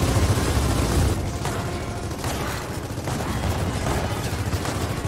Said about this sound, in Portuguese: Tem quatro caras atirando em mim